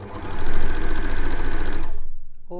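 An overlocker serger runs steadily for about two seconds, its blade trimming a fabric edge while sewing knickers, with a rapid mechanical chatter that stops abruptly and leaves near silence.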